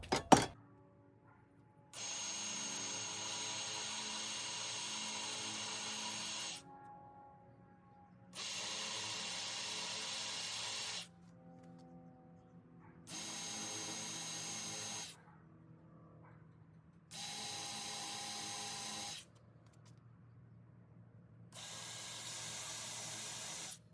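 A power drill bores holes in wood for an outdoor furniture build, running in five steady bursts of several seconds each, separated by short pauses, close by with no talk.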